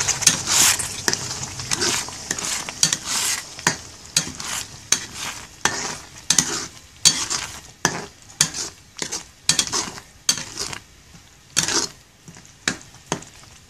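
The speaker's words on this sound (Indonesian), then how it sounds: "Kita aduk rata." Spicy chili sambal with dried shrimp and kaffir lime leaves frying in a pan while being stirred: repeated scraping strokes of a utensil against the pan over a continuous sizzle, close and moderately loud.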